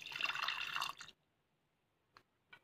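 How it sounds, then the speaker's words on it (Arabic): Rose water poured onto melon seeds, about a second of close liquid splashing and trickling, then a quiet pause and two faint drips. "هضيف بقى دلوقتي على بذور الشمام 1/4 كوباية من ماء الورد"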